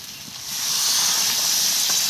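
Water poured into a hot pan of prawns, bursting into a loud rushing hiss of steam and sizzle that swells within the first half second and holds steady to the end.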